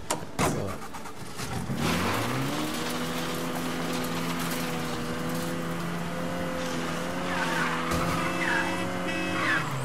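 A car in Mafia III drives along with its engine revving and rising in pitch while the tires squeal and skid, sustained and fairly close throughout with no talking.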